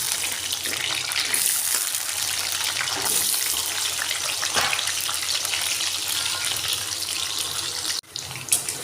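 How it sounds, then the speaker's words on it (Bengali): Potatoes fry in oil in a wok with a dense, continuous close-up sizzle that stays loud throughout, ending with a brief clatter. "আমি আলুগুলো ভেজে নেব।"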